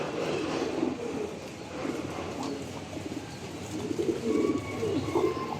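Soft, low Giribaz pigeon coos repeat in short rounded phrases over a steady background hum, with a few faint chirps; no one speaks.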